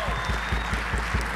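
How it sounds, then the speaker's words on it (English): Audience applause at a memorial benefit concert, a steady wash of clapping heard close and continuous for the whole stretch, with a voice speaking over it. "can we give a round of applause for art moving policy?"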